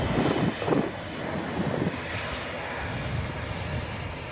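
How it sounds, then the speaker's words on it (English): Jet engines hum steadily across an airport apron as an Aer Lingus Airbus A330 is pushed back and a Singapore Airlines A350 taxis out, a broad even roar with wind buffeting the microphone. "Aer Lingus A330 being pushed back. Singapore A350 taxiing out as well."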